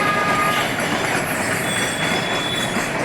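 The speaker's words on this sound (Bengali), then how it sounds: "বাহী ট্রেন চলে আসে, এটা মাল বহন করে বাংলাদেশ থেকে যায় ট্রেনটা।" A freight train carrying goods out of Bangladesh rolls past close by in a loud, steady rumble of wagons, with high metallic wheel squeal running over the grinding rail noise.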